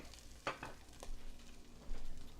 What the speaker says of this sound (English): Okay, now that we've browned the meat